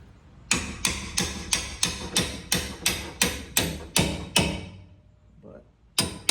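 A hammer raps parts down on a 2005 Silverado Z71 with a 5.3 Vortec, about a dozen sharp, evenly spaced blows that ring close by, then a short pause and a couple more strikes.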